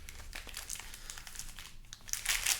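Foil booster packs for a Modern Horizons card draft crinkle and crackle as they are shuffled by hand, a continuous close rustling that grows louder and brighter toward the end.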